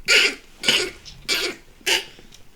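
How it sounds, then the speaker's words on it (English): Four harsh, raspy coughs come in a steady rhythm, close and loud, with short quiet gaps between them. "You gotta turn your head when you ugly cough."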